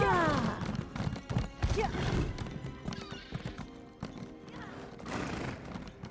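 A horse in Elder Scrolls Online clops along with rapid hoofbeats and lets out loud whinnies near the start and end, close and prominent over game background sounds.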